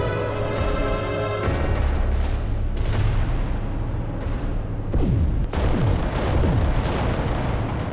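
Titan weapons firing in the Adeptus Titanicus: Dominus video game, with loud booming blasts and heavy gunfire layered over a steady rumble, plus a few sharp whooshing shots near the end.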